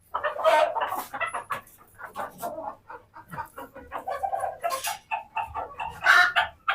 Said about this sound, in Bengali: এখানে সব দেশি মুরগি।